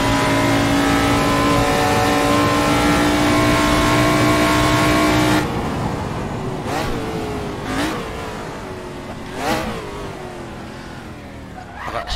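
Race car engine in the Assetto Corsa racing game, with an AC Legends prototype mod, howls at high revs with a sustained loud whine, then drops off into a series of rising and falling revs as it shifts and brakes into corners.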